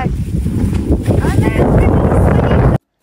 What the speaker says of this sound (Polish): Niestety pojawił się straszny wiatr.